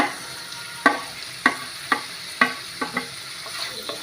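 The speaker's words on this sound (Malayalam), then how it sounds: "എന്നിട്ട് നമുക്ക് നന്നായിട്ട് ഇതും കൂടെ ചേർത്തൊന്ന് വഴറ്റിയെടുക്കാം" Onions and chopped tomatoes are sautéed and stirred in a pan for an egg curry, with a soft sizzle under a series of distinct scraping and stirring knocks spaced roughly half a second apart.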